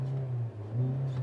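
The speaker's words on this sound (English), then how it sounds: "it has just a traditional starter noise" A 2024 Hyundai Elantra Limited gasoline engine turns over and settles into a low, steady idle hum, heard up close with a brief dip partway through, and no talking.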